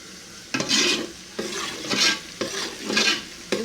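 Onions sizzle in a hot pan while a utensil scrapes and stirs in four rhythmic sweeps, close and clear, with no talking.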